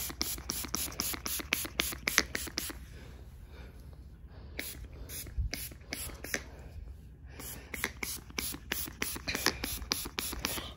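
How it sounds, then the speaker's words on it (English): A spray bottle mists hair down for a wet and wavy look, giving quick bursts of hissing pumps in fast runs, a short pause in the middle, then another rapid series. "Let's spray it down."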